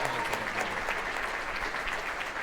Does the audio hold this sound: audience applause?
yes